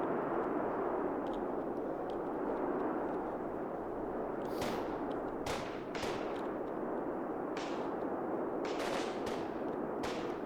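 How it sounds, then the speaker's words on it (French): Scattered video game gunshots in Combat Mission crack over a dense, continuous rumble of battle noise, some single shots and some quick bursts at varying distances. "premier coup de feu qui arrive là"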